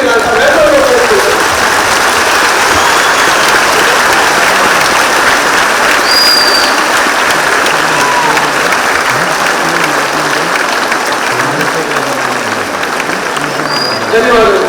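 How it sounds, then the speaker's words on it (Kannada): Sustained, loud applause from a large audience at a student scholarship event, continuous clapping filling the whole stretch without a break. "ಒಂದು ನಿಮಿಷ ಎದ್ದು ತಮ್ಮ ಅಭಿಮಾನವನ್ನ, ತಮ್ಮ ಪ್ರೀತಿಯನ್ನ ಅಜೀಂ ಪ್ರೇಮ್ಜಿ ಅವರಿಗೆ ತೋರಿಸಬೇಕು ಚಪ್ಪಾಳೆಯನ್ನ"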